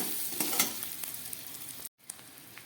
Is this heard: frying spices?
yes